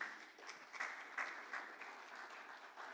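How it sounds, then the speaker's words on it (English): Audience applause at the DEVJAM 2018 developer community event in Nigeria, a steady, moderately distant clapping from a crowd that continues throughout without talk. "Please, you guys should give yourself a round of applause."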